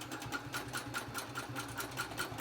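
A domestic sewing machine runs steadily, basting long stitches on a quilting frame, its motor whirring with a regular rapid needle tick repeating about every fifth of a second, close and moderately quiet with no talking.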